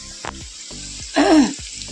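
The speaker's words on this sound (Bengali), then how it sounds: "এদিকে আলু ভাজা হচ্ছে গোল গোল আলু ভাজা পটল ভাজা" Round potato slices and pointed gourd fry in hot oil for a vegetarian Bengali meal, giving a steady close sizzle broken by a few sharp utensil knocks and a brief voice.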